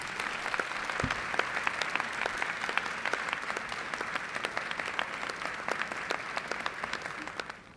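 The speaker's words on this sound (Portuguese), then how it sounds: "eu quero deixar aqui uma salva de palmas para eles também" Audience applause at a Brazilian Social Worker's Day celebration, a steady, dense clapping from a sizable crowd that holds for several seconds before tapering at the end, with no talk over it.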